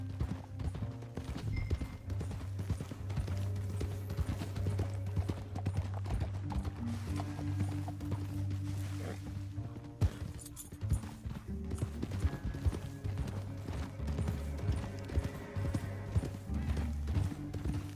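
Horses clip-clopping at a steady gallop in Red Dead Redemption 2, the rhythmic hoofbeats continuous under a dense game score, with a brief whinny possible.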